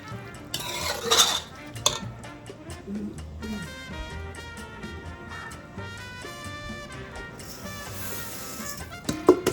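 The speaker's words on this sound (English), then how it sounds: "Okay, now we're going to start adding our rice." Rice is poured into a large pot for Puerto Rican arroz con gandules, bringing a rush of grainy pattering along with metal clinks and scraping from the cookware and utensils, up close and with no talking.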